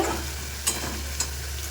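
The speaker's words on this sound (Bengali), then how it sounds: "এখানে মশলা কষানো হচ্ছে" Spices being sautéed in a pan: a brief, steady sizzle over a low hum, with two quick scrapes of stirring and no talking.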